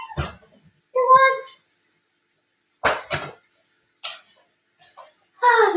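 A house cat meows repeatedly as it is let outdoors, several distinct cries separated by short pauses, close and fairly loud, with some scuffing or vocal noises between them.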